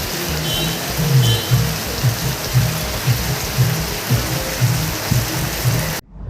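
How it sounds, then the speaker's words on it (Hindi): Heavy rain pours at a district headquarters in Pithoragarh, a dense steady hiss of falling water with a rhythmic low thudding of drops on a surface. It stays loud and continuous until it cuts off abruptly near the end, with no talking. "जिला मुख्यालय में अपराह्न 4:30 बजे से जमकर बारिश हो रही है"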